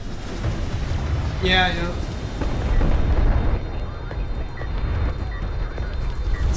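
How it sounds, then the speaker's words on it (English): Artillery barrages exploding on a carrier in Homeworld: Deserts of Kharak, with a steady rumbling wash of blasts and a brief rising whine, while people talk over it. "the barrages are actually landing on the carrier here"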